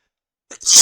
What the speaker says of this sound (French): Excusez-moi, je sens un éternuement qui arrive.